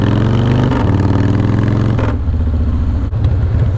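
Loud, steady rumble of a Harley-Davidson Fat Boy motorcycle engine running close by, a deep throaty idle with a brief shift in tone partway through.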